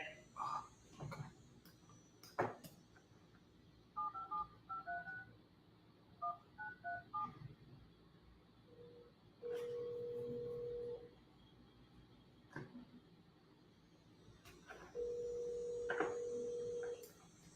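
Telephone number being dialed on a keypad, with a series of short touch-tone beeps in quick clusters, followed by two longer steady tones, heard clearly against a quiet room.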